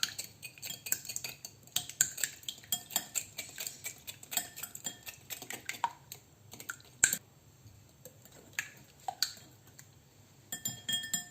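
A utensil stirs French toast mixture in a bowl, giving repeated clinking and scraping against the dish in irregular bursts, with a brief pause near the middle and the stirring resuming toward the end.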